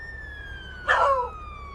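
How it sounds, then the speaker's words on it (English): A Motorola police siren of the Texas State Police in a GTA V police mod gives a single short electronic yelp burst, loud and close over a faint steady background tone. "This siren right here. It is the Motorola."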